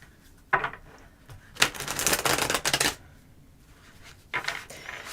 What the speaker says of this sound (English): Let's shuffle for you.